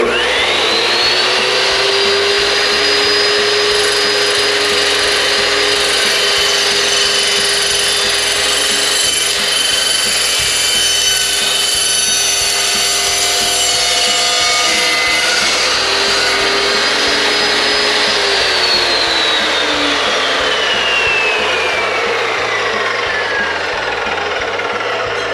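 A loud Evolution power saw runs continuously, its high whine rising as it spins up and bites through scrap material, then winding down near the end.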